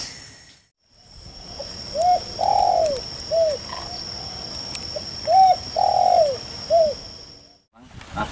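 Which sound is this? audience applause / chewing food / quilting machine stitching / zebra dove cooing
zebra dove cooing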